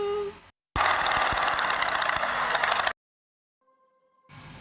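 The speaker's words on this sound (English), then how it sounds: "A motorcycle goes vroom vroom." A motorcycle engine blares in one loud, rough burst of about two seconds, set apart by short quiet gaps before and after.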